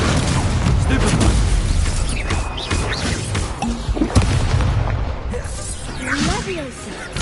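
Stupefy stunning spell cast in Hogwarts Legacy on PlayStation 5: dense game effects with whooshing swipes and heavy booming impacts, a sharp hit near the middle, continuous and loud throughout.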